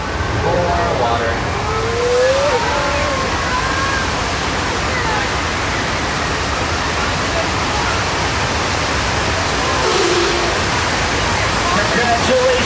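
Loud, steady rush of flood water on an earthquake simulation ride at Universal Studios Hollywood, a continuous broadband roar under faint voices and a brief rising whine.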